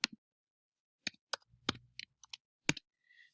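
An equation typed on a computer keyboard: about a dozen sparse, quiet key clicks spread irregularly over a few seconds, close and alone in silence.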